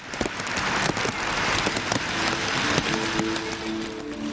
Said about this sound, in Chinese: 北京市的暴雨仍旧没有减缓的迹象